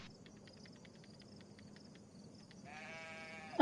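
A sheep bleats in a video game, preceded by a faint, thin chirping ambience, then a single near, nasal bleat rises near the end and cuts off at a sharp louder sound.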